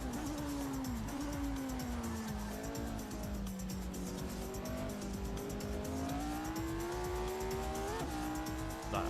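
A Ferrari race car engine in a 1968 Canadian Grand Prix racing game revs loudly and continuously, its pitch dipping and climbing through corners with a faint tire squeal underneath.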